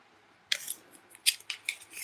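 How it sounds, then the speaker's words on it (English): Scissors snipping at a craft workshop table, several quick, close cuts in an uneven rhythm over about a second and a half, with no one talking. "We need our scissors."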